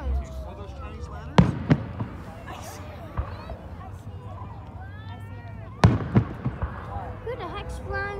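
Fireworks bursting at a mega cruise car show event in Penn Township: sharp booming blasts land in two clusters, with crackling pops between them, over a continuous crowd babble and nearby people talking.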